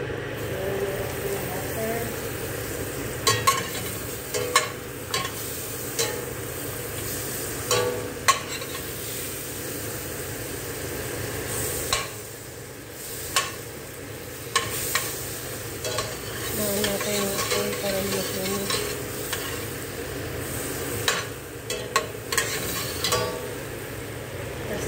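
Butter sizzles in a pan while kaldereta is being cooked, a steady low frying hiss broken by clicks and scrapes of a utensil stirring, with a voice talking over it at times.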